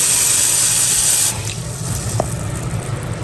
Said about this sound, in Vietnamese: Rồi sau đó mình xả nước vào,